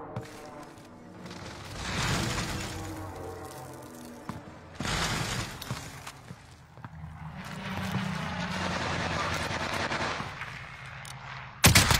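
Video game combat with an airstrike and gunfire: repeated loud booming blasts and bursts of rapid shooting in surges, with players' voices talking over the action.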